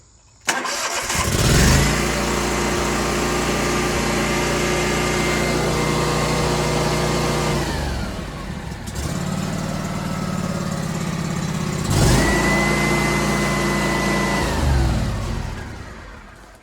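Scag V-Ride 2 stand-on mower with a 37 HP Vanguard engine starting and throttling up, a steady loud close-up engine roar that dips briefly around the middle and then rises again.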